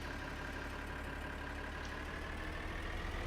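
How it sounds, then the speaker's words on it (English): Tractor engine in Farming Simulator 2013 starting and settling into a steady, continuous idle, a low droning hum held evenly throughout with no talk. "Preheat, start the tractor."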